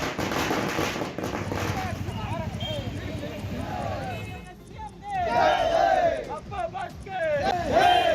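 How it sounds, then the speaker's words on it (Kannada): Fans chant slogans and whistle for Vijay, waving Vijay and Puneeth flags, as a rowdy outdoor crowd of overlapping shouts with shrill whistles rising near the end. "ವಿಜಯ್ ಮುಂದಿನ ಸಿಎಂ ಅಂತ ಜಯಘೋಷ ಹಾಕಿ ವಿಜಲ್ ಹಾಕಿದ್ದಾರೆ"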